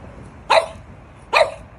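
A dog gives two loud, sharp barks close by, spaced about a second apart, with quiet in between.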